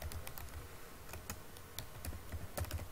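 Quick, irregular keystrokes tap on a computer keyboard while details are entered into an online job application form, faint and close with a light background hiss.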